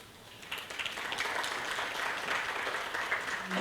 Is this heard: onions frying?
no